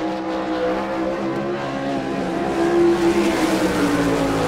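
A number 23K sprint car driven by Casey Kane runs a qualifying lap at Rossburg, Ohio, its engine a loud, steady roar with sustained harmonic tones that swell slightly toward the end, with no voices.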